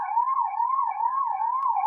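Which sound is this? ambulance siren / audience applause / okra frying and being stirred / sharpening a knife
ambulance siren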